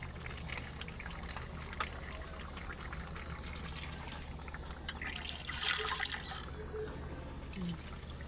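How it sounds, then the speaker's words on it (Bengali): Water is poured into a pot of duck meat curry, a brief splashing trickle rising near the middle over a steady low kitchen hum. "পানি দিয়ে দেব"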